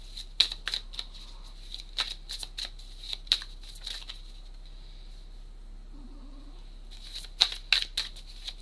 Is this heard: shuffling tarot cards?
yes